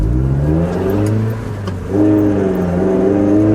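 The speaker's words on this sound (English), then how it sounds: "Much better throttle response. Deep rumbling sound." A 1999–2005 Mazda Miata NB with an aftermarket axle-back exhaust muffler revs loudly and close by, its deep engine note dipping briefly and then climbing again in a steady rumble.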